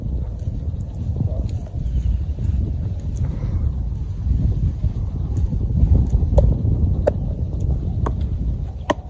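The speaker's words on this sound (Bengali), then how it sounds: "রোদ থাকলেও বাতাস আছে গো" Wind gusts across an open farm field on a sunny village day, making a steady low rumble and buffeting against the microphone that swells a little toward the middle, with occasional small clicks.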